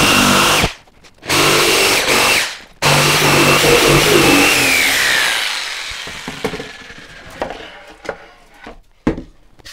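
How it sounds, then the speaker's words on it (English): A jigsaw rough-cuts a wooden chuck blank in a loud, close burst of power-tool cutting, stopping briefly twice, then trailing off into scattered knocks and handling sounds. "what I'm going to do first is take a jigsaw and just rough cut it out"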